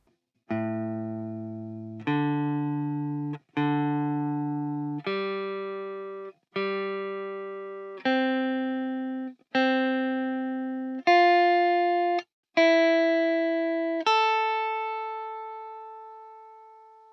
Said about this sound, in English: Now I will play fourths over all strings so that you can have a listen.